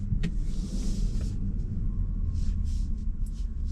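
A Bentley Batur coachbuilt supercar with a W12 engine cruising along, a steady low rumble from inside the cabin with light whooshing passes overhead, fairly constant and moderately loud.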